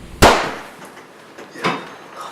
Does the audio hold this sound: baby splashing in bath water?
no